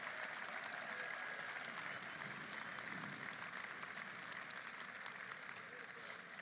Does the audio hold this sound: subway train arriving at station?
no